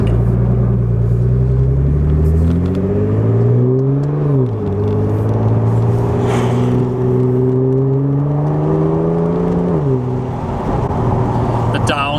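Nissan GTR with a remapped straight-pipe exhaust downshifting from inside the car, loud and continuous, with rising blips and falling engine pitch repeated twice, and a voice occasionally over the drone.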